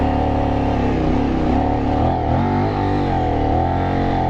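A Kove 800 Rally adventure motorcycle straining through deep sand, its engine droning loud and close at steady revs with slight rises and dips in pitch.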